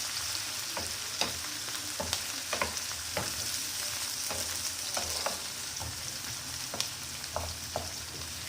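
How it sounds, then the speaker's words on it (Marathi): Tomato and curry leaves sauté in hot oil, a steady close sizzle punctuated by regular clinks and scrapes of a spoon against the pan. "टोमॅटो स्मूथ होईपर्यंत परतून घ्यायचं छान।"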